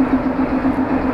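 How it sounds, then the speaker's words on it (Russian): A diesel shunting locomotive idles steadily at a freight railway station, a constant low engine drone with a firm hum running evenly and close throughout. "Тепловоз работает, нам повезло, маневровый."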